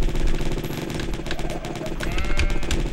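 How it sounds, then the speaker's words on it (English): Electricity gun firing in the video game Jazzpunk, a loud, dense crackling burst that rattles on steadily for the whole stretch with no talk over it. "is that my electricity gun?"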